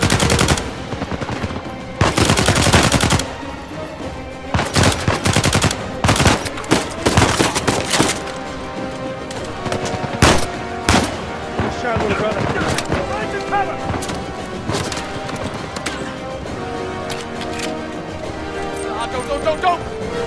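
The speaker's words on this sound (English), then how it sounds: "laying some kind of suppressive fire" Rapid suppressive gunfire in Uncharted 4, with repeated loud bursts and single shots cracking over a steady bed of game sound and music, strongest early on and then thinning to scattered shots.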